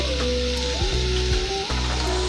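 Meat and garlic fry in a pan for chicken pasta, a loud, steady close sizzle that runs the whole time, with a few brief clinks and scrapes of utensils through it.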